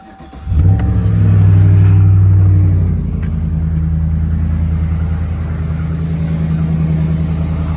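A Chevy Silverado 5.3 V8 fitted with a cold air intake fires up cold and revs loudly. It then settles into a steady, deep idle with a faint tick.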